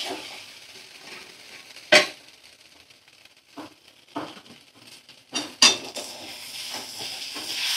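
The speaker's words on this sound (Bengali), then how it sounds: "একটু নাড়াচাড়া করতে হবে।" Food being stirred in a kadai over medium flame, a soft sizzle underneath with a few sharp clanks of the spoon against the metal pan at irregular intervals.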